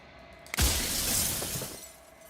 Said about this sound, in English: He's shattering.